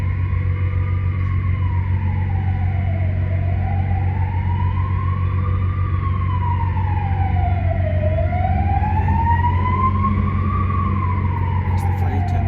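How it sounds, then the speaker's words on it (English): Wailing fire engine siren rising and falling in slow sweeps, heard from a vehicle stuck in traffic near the Mont Blanc tunnel, loud and continuous over steady engine rumble, with brief talk. "That's the fire tender."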